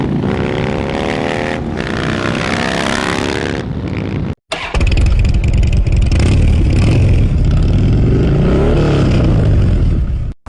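1999 Harley-Davidson CVO FXR3 motorcycle revving loudly up close, with a rising and falling engine note, a sharp cut near the middle, then a sustained throaty roar.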